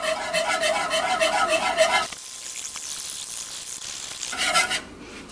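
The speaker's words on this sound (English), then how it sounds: "I'm just going to whisk this, and you're going to whisk it until it thickens up" Banana cream pie filling is whisked in a pot, a steady close scraping and swishing that stops for about two seconds midway and then starts again.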